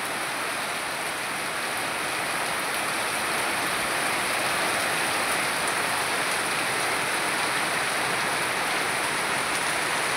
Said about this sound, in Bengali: দেখুন কি পরিমাণে বৃষ্টি